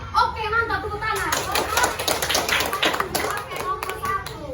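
Students in a classroom clap together for several seconds, a dense patter of hands mixed with children's chatter and voices throughout.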